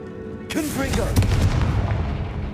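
A Confringo blasting spell explodes in Hogwarts Legacy inside a goblin mine, a sudden loud boom at the start followed by a rumbling, crackling blast that sustains throughout, with a voice calling out over it.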